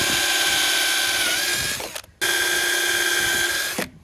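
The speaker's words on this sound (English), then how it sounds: "we just clean this up and put new screws in" A power drill drives new screws into cumaru hardwood deck boards during a deck restoration, heard as two sustained whirring bursts of about two seconds each, separated by a brief pause, close and loud.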